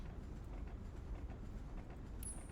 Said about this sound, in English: The sound of the Intercontinental train thundering along the metal tracks can still be heard in the dining carriage